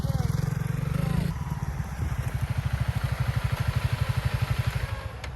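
Honda CRF300L Rally motorcycle on a dirt trail, its single-cylinder engine pulsing in a steady rapid rhythm close by after a brief louder rev, with wind noise throughout.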